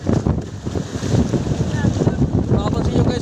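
Strong gusting wind roars across the microphone aboard a small fishing boat out at sea in stormy weather, with water sloshing beneath and faint creaks, loud and continuous.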